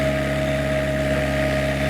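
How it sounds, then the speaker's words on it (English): A SealMaster sealcoating squeegee spray machine's engine runs throttled up as the machine sets off, a loud, steady, droning hum with strong tonal whine, close and continuous. "I'm going to increase my throttle. Going to set the machine in motion."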